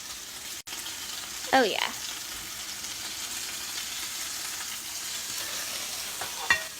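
Steak sizzles steadily in a frying pan, a constant close hiss running alone for most of the stretch, broken by a brief spoken exclamation and a couple of sharp clinks.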